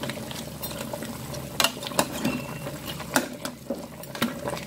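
Nsala soup with fish bubbling in a pot while a spoon stirs it, soft scraping knocks at irregular intervals over a low steady simmer, close and fairly quiet.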